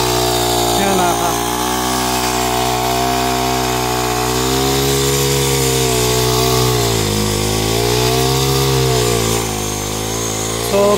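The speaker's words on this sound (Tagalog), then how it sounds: "So grass cutter gamit namin mga kap." A converted grass cutter engine runs on an upland farm with a loud, steady buzzing drone, its pitch dipping and rising as the load changes, while people talk nearby.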